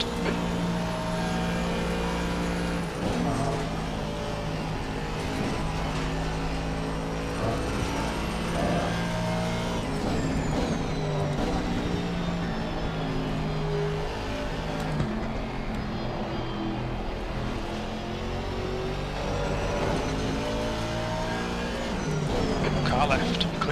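A racing car's engine drones loudly and continuously on a track during a training session, with pitch shifts as it accelerates and lifts, while a voice talks over it.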